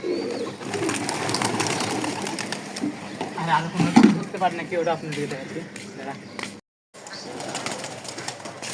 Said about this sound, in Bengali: সুন্দর হাতে লাগলো কবুতর, তো একটা ধরলাম আজকে